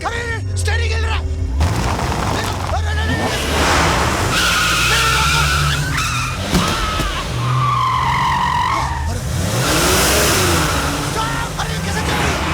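A car's tires squeal in long skids alongside engine revving and thumps, loud and continuous, with voices talking over parts of it.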